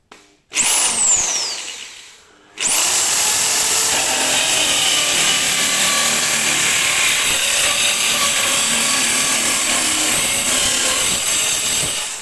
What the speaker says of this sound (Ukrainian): Ламінат непогано ріже, навіть і не рве його.